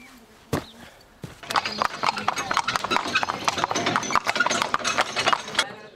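Horse hooves clip-clop in a quick, steady rhythm on a hard surface during a Hungarian countryside riding outing, loud and close, with a few isolated knocks before the trotting begins.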